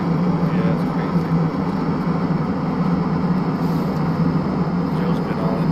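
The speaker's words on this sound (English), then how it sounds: "Airplane will fly over the map and drop the package." The airdrop airplane in a video game flies over the map with a steady, continuous engine drone at constant loudness throughout.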